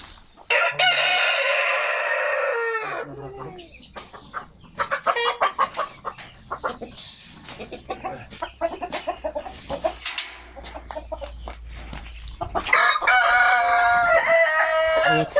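A Rhode Island Red rooster crows loudly nearby, a long strained call, then clucks and rustling before a second full crow near the end.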